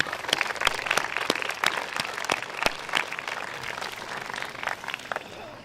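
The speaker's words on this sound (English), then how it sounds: "give them a round of applause" Crowd at a high school graduation ceremony applauding, a full room of clapping with distinct close hand claps popping out over the dense patter, fading slightly toward the end.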